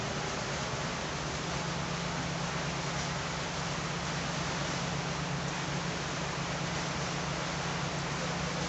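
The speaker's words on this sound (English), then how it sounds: "if you could hear that sound in the background, we are having rain where I am" Steady rain falls outside during a home machine-knitting session, a continuous broadband hiss at an even level throughout, with no speech over it.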